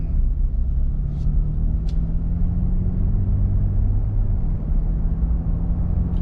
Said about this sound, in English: Very quiet truck.